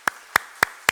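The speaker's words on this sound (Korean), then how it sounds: "반갑다고 박수 한번 크게 보내드리도록 하겠습니다" Four sharp, evenly spaced claps ring out close by at a Sunday service in Jangsaengpo church in Ulsan, as the congregation welcomes a visiting Christian sailor.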